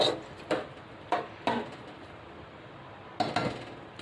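A spoon stirs chana pulao, chickpea and rice, in a cooking pot, giving a handful of scattered metallic clinks and scrapes, close and moderately quiet, with no talking.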